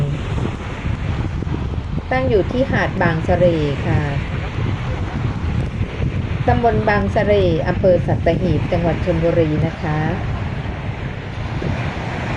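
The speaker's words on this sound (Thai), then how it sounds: "ลมพัดก็เย็นสบายนะคะไม่แรงมาก" Gentle wind buffeting the microphone over sea waves on Bang Saray beach, Sattahip, Chonburi, a continuous low rush heard beneath someone talking throughout.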